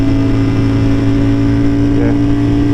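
A Ducati Panigale motorcycle engine drones steadily while riding, loud and close with a constant mid-pitched tone and a slight rising note near the end, mixed with wind rush.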